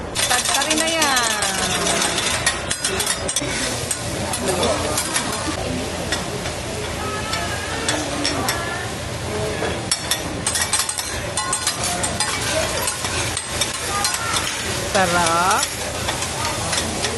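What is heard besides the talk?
stirring fried rice with egg in a pan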